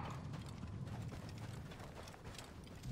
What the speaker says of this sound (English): They're all getting on horses.